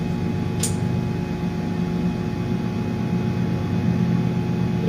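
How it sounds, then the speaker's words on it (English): A helicopter drones somewhere overhead as a steady, even roar with a low hum, unchanging for several seconds and heard alone without talk. "That's got to be a helicopter."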